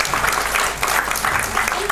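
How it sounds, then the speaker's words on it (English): Steady applause from a conference audience after a talk, dense clapping throughout with no voices standing out. "Everyone give them a round of applause."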